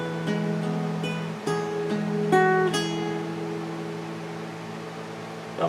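Guitar picks a few plucked notes and chord tones from a riff, fairly quiet, with notes ringing out and overlapping over a faint hiss.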